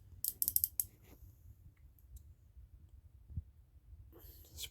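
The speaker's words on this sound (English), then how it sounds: "This is a very fun ratchet." Clicks from a DT SK ratchet, a sharp quick burst of ratcheting near the start, then quiet mechanical rustle and a second short run of clicks at the end, close and fairly faint.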